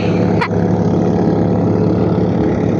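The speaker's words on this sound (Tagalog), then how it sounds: "Grabe ang tunog ng makina, parang airplane." A boat engine out at sea roars loud and steady, a continuous airplane-like drone filling the whole stretch, with a brief sharp knock near the start.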